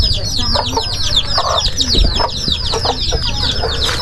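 Chicks peep in a rapid, continuous high chatter while chickens cluck nearby, a loud, busy flock of poultry sounding steadily throughout.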